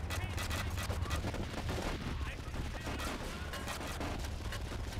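Rapid gunfire in Grand Theft Auto 3, a dense continuous rattle of shots sustained across the whole stretch with low booming underneath, steady and loud.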